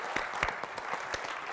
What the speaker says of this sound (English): Can I get a quick applause for the conference and everything going on?